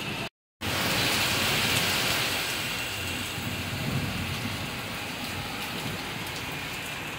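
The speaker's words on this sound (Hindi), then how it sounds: "बट लग नहीं रहा क्योंकि बारिश बहुत ही ज़्यादा तेज।" Heavy rain roars in a thick, steady wash of noise, close and constant, after a brief moment of silence at the start.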